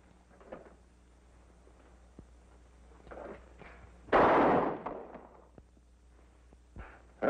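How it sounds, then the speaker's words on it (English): Shooting contest at a target in a 1950s TV western, with one loud sharp gunshot standing out above a few softer pops and faint background noise, no talking. "We'll put a bullet in the letter O. Give you something to shoot at."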